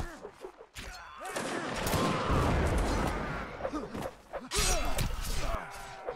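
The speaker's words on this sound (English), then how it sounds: "Got another cannon, watch out." Cannon blasts and musket volleys boom and crackle through a Napoleonic Wars video game line battle, with dense rumbling gunfire swelling in the middle and breaking again near the end, loud and close.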